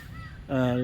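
Birds calling in a small landscaped garden park in Chennai, with a loud harmonic caw-like cry starting midway after quieter ambient sound.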